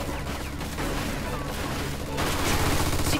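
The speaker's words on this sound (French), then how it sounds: "On dirait qu'on a retrouvé la mitrailleuse." Machine gun fire crackles through a battle scene in the video game Mafia 2, a dense continuous fusillade with sharper bursts near the end, mixed with background game noise and occasional voices.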